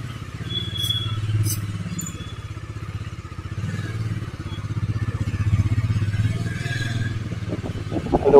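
A loaded motorcycle rumbles along a coastal road, its engine thrumming low and steady with slight swells in pitch, while light clatter and wind noise ride over it.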